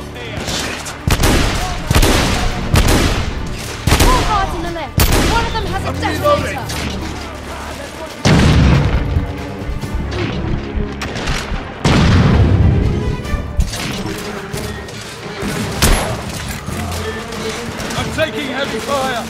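Dense gunfire from The Order: 1886 in a firefight, with bursts of rapid shots, heavy booms and impacts at close range, loud and continuous, while voices shout over the shooting.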